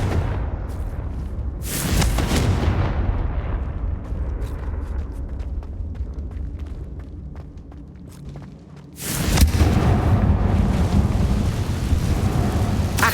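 Confringo fire spell in Hogwarts Legacy erupts as a loud, rumbling blast near 9.5 s, with heavy low booms and crackle continuing afterward, following an earlier burst around 2 s amid sustained roaring game ambience.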